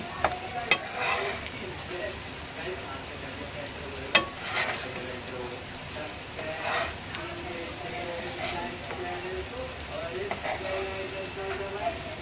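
Eggs coated in masala fry in hot oil as they are turned, giving a steady close sizzle broken by a few sharp spatula clacks against the pan.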